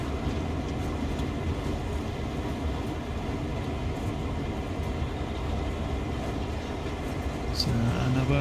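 A GP9RM locomotive in Train Sim World 5 rolls along steadily, with a constant low diesel rumble and wheel noise droning throughout and a brief clank near the end.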